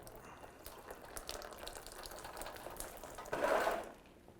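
Coolant from a disconnected thermostat hose on a 2001-2007 Ford Escape pours into a catch can, a faint trickling splash that swells into a louder gush near the end, close by with no talk.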